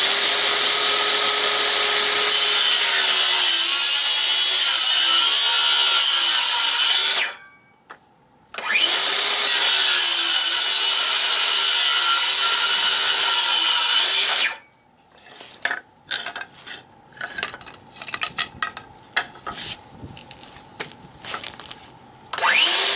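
A Dewalt DCS391B 6 1/2-inch cordless circular saw rips through wood in two long, loud, steady cuts separated by a brief pause, followed by scattered clattering and handling noises.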